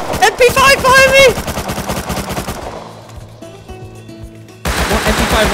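Rapid bursts of MP5 submachine gun fire in the survival game Rust, loud and close, with a short pause mid-clip before another volley breaks out.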